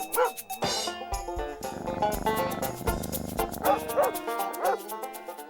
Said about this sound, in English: Danny is a little mixed breed pup